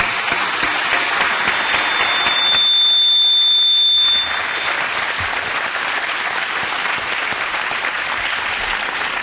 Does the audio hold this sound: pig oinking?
no